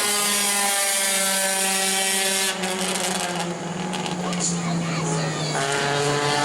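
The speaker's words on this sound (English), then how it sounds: "Now here comes Bob Say in car number 72 to take the green flag." A Bomber class race car engine at New Smyrna drones at high pitch during qualifying, its tone shifting as it passes, with a buzzing mechanical rattle and a voice talking over it.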